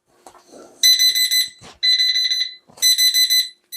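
A large digital wall clock's alarm sounds in loud, shrill bursts of rapid electronic beeps, three separated groups each lasting about a second, with brief quiet gaps between them.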